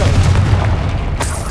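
Confringo explosive spell in Hogwarts Legacy, a short heavy boom with low rumble followed by a brief crackling burst, close and fairly loud.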